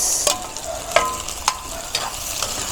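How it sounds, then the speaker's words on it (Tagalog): Garlic, onion and tomato sauté in a pan for a Filipino tofu and pork dish, a steady close sizzle broken by several sharp scraping stirs at regular intervals, with no talking. "Papulahin po natin ang ating bawang at sibuyas. Yan, isunod po natin ang kamatis."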